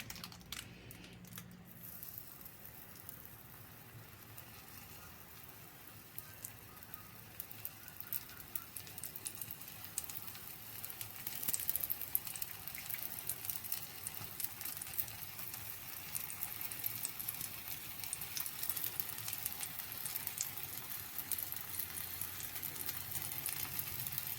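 Oil sizzles and crackles softly and steadily in a pan as apple kefir pancakes fry, a faint hiss that grows a little denser midway and carries on without talk.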